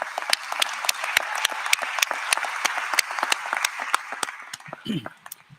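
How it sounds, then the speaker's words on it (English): A crowd applauds at a medical school commencement, with sharp, closely spaced claps forming a steady round that thins out near the end, when a voice comes in over the last claps. "let's give Frank Feckety another round of applause"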